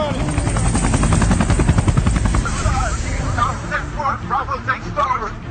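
A military helicopter in an action movie scene, loud rotor chop thudding steadily throughout while people talk over it.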